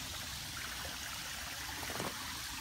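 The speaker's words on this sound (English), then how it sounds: "There's a waterfall, water feature." A waterfall feature in an aquaponics pond trickles steadily, a continuous broad wash of running water with a slight surge near the end and no voices.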